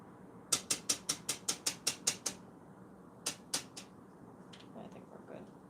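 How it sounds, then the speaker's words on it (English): Batteries clicked back into a corroded Illumask: a quick run of about ten sharp, evenly spaced clicks, then three more spaced clicks and a few faint scrapes, close and alone. "I think I'm gonna put the batteries back in."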